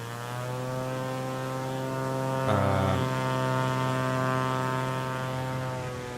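A propeller aircraft engine drones steadily in Microsoft Flight Simulator during a race over Papua New Guinea, a constant harmonic hum that swells briefly louder partway through, with no voices.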